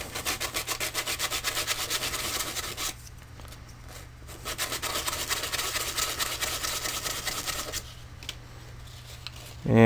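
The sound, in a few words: sanding a surface with sandpaper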